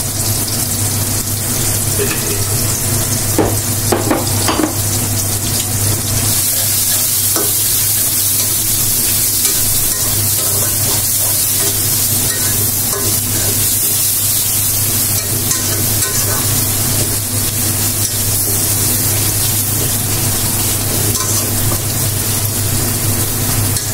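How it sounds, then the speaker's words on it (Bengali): Onions fry with a bay leaf in a pan, making a continuous close sizzle with frequent spatula stirs and scrapes. It runs steadily for the whole stretch, without talk. "আমার এই যে পেঁয়াজগুলো ভাজা হয়ে গেছে"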